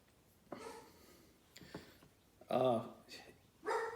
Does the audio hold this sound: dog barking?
yes